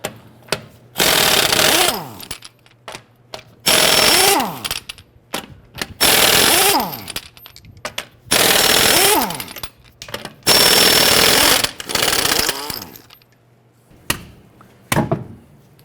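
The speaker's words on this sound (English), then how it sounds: "Using our 22mm socket, we're going to go loosen and remove our lug nuts." An impact wrench with a 22mm socket loosening and removing the front wheel lug nuts on a 2009-2015 Honda Pilot: five loud, rattling bursts of a second or two each, separated by pauses and short clicks and clatters.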